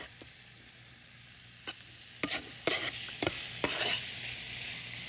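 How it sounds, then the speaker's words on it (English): Pork sizzles quietly in a hot skillet, with a few sharp scraping stirs and crackles breaking over a soft steady hiss. "we're gonna add our pork to our hot skillet. You wanna hear that sizzle."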